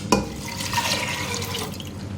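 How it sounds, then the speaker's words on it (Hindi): Water poured into chana and moong dal with turmeric in a pot, a short close splash followed by a continuous trickling pour that fades out after about two seconds. "2 कप पानी डालूंगी।"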